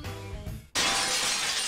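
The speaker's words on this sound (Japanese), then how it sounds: "ガラスの割れる音、そして絶叫。" Glass shatters suddenly in a PS3 horror adventure game, a single sharp crash that bursts in after a quieter tonal passage and rings on as a bright, sustained spray of fragments.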